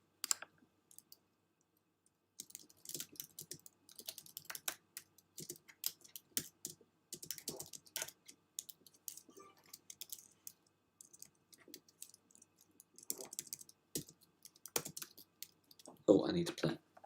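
Typing on a computer keyboard comes in bursts of quick, close clicks during a golf clash game tournament stream, with a voice talking intermittently over the keystrokes.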